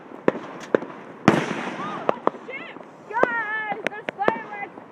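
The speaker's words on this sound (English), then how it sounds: "Guys, there's fireworks everywhere." Fireworks going off everywhere at night, sharp scattered bangs and crackles, some near and some distant, amid excited voices talking and whooping in the foreground.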